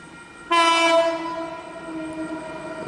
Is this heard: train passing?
yes